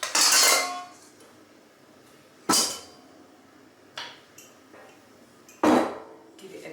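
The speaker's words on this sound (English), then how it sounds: "Give it a good mix." A utensil knocks and scrapes against a pot while quince rice pudding with cinnamon is mixed, giving a few sharp clinks spaced about a second or more apart over a faint background.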